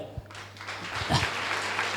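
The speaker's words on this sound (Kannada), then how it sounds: "ಮತ್ತೊಂದು ಸರ್ತಿ ಚಪ್ಪಾಳೆ" Church congregation in Mysore clapping together, a steady broad wash of applause building after a short pause and continuing throughout.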